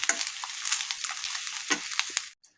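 A spoon stirs ajwain leaf rice with fresh coriander in a pan, giving soft scraping and light clinking strokes at close range before falling silent.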